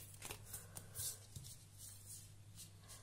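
Tarot cards are shuffled quietly and close, a soft, irregular series of riffling flicks and brushes over a low steady hum, with no talk.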